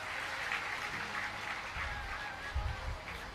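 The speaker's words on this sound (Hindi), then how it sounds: "बहुत तालियों के द्वारा स्वागत करें" A religious discourse audience claps steadily in welcome, a broad continuous wash of applause with a low rumble underneath, moderately loud and heard without any talk.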